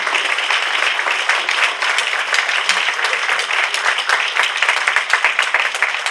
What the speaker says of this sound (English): let's give Donna a nice round of applause